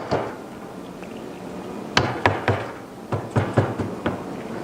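A hammer taps a starter flange to loosen it, giving a series of sharp metallic knocks in two short bursts over a steady background hum.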